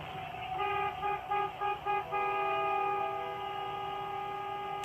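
A truck horn sounds a quick warning to a student stepping into the street. It gives a few short toots and then a sustained blast, moderately faint, over a low traffic hum.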